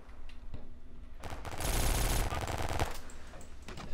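Bursts of automatic gunfire in the online shooter War Trigger 2, rattling rapidly and building into a loud, dense volley mid-clip before easing back to scattered shots.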